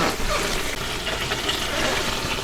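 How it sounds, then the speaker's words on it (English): Two cups of water poured into the bottom of a pressure cooker pot holding a rack and a whole chicken, a steady broadband splashing pour that runs evenly throughout without talk. "I'm going to add 2 cups of water to the bottom of this"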